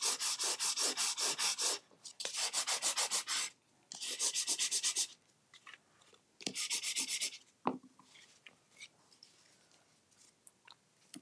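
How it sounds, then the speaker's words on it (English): Rubbing strokes burnish a handmade paper craft box in four quick, close bursts of rapid scratchy scrubbing, followed by softer handling sounds and one sharp tap. "now I'm just going to give that a good burnishing."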